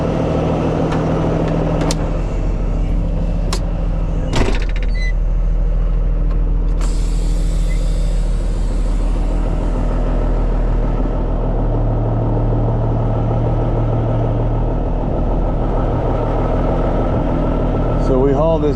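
A tow truck's engine idles loudly and steadily while it is positioned beside a dump truck, with sharp bursts of air-brake hiss and clanks breaking through the continuous diesel rumble.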